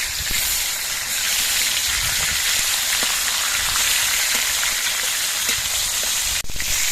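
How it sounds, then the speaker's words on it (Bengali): Fish heads frying hard in hot mustard oil as they are flipped, a steady loud hiss and sizzle filling the whole stretch with small crackles and a brief clatter near the end. "মাছের মাথাটায় এক কিছুক্ষণ ভাজা হওয়ার পর আমি উল্টে দিচ্ছি"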